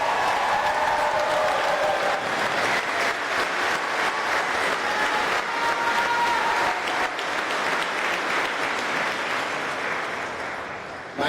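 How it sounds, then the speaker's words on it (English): A large graduation ceremony audience at Quaboag Regional Middle High School, class of 2023, gives loud, sustained applause that fills the hall for the whole stretch, then tapers slightly toward the end. "A big round of applause."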